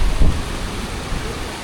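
A glacial meltwater stream rushes along a mountain trekking path toward Dudipatsar Lake in Pakistan, a close, continuous broadband roar with low rumbling, heard alone for under two seconds.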